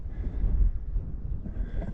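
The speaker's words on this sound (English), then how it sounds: "it's a little windy, so it's kind of helping with that" Wind gusts blow through desert bushes in Big Bend National Park, giving a low, steady rumble with soft swells and buffeting against the microphone.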